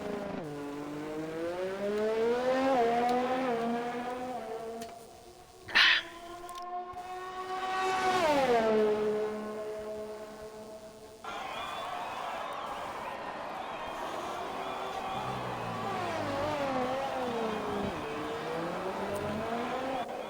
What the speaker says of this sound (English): Now he starts braking for turn 11.